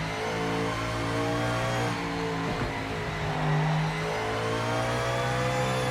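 An Audi GTO race car engine in the racing game Project Motor Racing holds a steady mid-pitched drone, then its revs sweep and waver through gear changes, loud and close with no voices.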